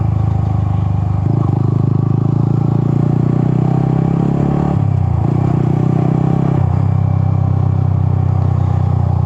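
A Yamaha XSR 155 motorcycle engine runs close by, a steady throbbing rumble with clattery mechanical texture that rises in pitch twice as the throttle is blipped, then settles back to idle; no talking.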